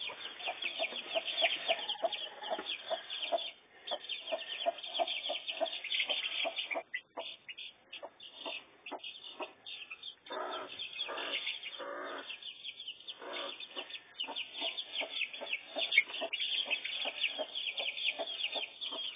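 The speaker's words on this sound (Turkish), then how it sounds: "Cik cik cik cik cik cik diye öterler." Many Ankara chicks chirp and peep rapidly and continuously, overlapping in a busy chorus with occasional clucking from a hen, close by.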